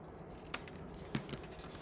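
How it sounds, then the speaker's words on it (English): Scissors snip small V notches into scored paper for a squirrel tealight holder, two or three crisp close cuts over a quiet room. "we're just cutting little V's into those score intersections"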